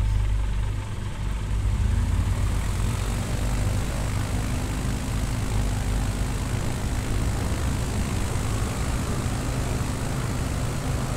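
Simulated airplane engine at full throttle for takeoff in Microsoft Flight Simulator 2020 on a Nevada bush trip, a loud, steady propeller drone with a low hum that holds without a break and no voices.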